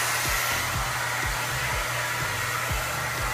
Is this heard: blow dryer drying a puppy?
yes